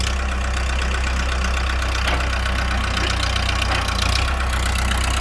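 A Kubota L5018 tractor's four-cylinder diesel engine idles close by, a steady low, loud throbbing rumble with a slight knock that stays even throughout, with no voices.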